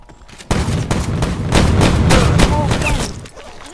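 Rapid, loud gunfire bursts in Call of Duty Black Ops 4 Blackout, repeated shots crackling close over about three seconds amid game noise and voices.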